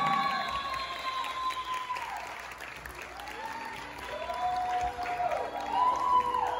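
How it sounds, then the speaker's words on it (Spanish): Guests applaud at a quinceañera party in a banquet hall, a steady crowd clapping with some cheering beneath a tonal whistle-like melody, rising louder toward the end. "Que se escuche fuerte, fuerte ese aplauso."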